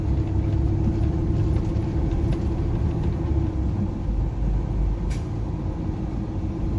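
A truck engine running on a narrow road, a steady loud low rumble throughout with no speech, plus a faint brief hiss partway through.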